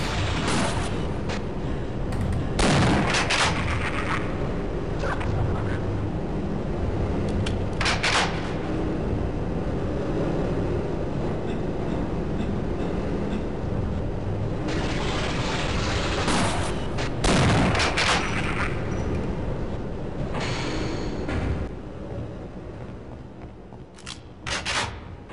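SPAS shotgun fire in Half-Life: Opposing Force, a dense run of loud, sharp blasts with pump-like clacks in between, mixed with constant game noise and explosions for most of the stretch before thinning out near the end.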